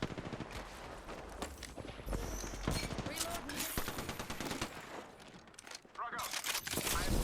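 Rapid automatic gunfire in an Apex Legends match, with dense bursts of shots and rattling fire continuing throughout at close range, layered with game effects and some speech underneath.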